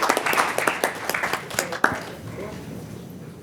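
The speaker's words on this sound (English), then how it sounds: "Let's give her another round of applause." Audience at a city council meeting giving a round of applause: dense, fairly close clapping that tapers off, with a voice briefly heard over it.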